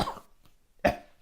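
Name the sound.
cough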